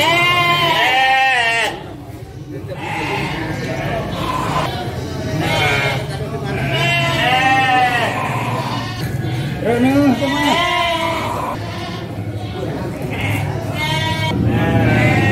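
Garut sheep bleat repeatedly at a busy livestock market in Andir, Bayongbong, their wavering cries rising close and loud over steady crowd chatter and babble.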